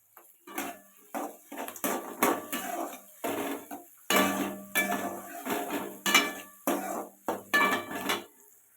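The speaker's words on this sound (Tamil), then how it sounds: "வெங்காயத்தை போட்டு வெங்காயம் நல்லா ஒரு நிறமாக வர வரைக்கும் நல்லா வதக்கலாங்க" Onions are stirred in a pan with a utensil, giving repeated clinks and scrapes of metal on cookware in uneven bursts, close and fairly loud, with a faint sizzle beneath.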